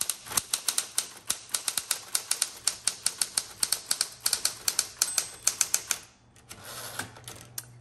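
A repainted Smith Corona Electra 120 electric typewriter typing, sharp regular key strikes clacking close and loud in a fast steady rhythm, then a whirring carriage movement near the end.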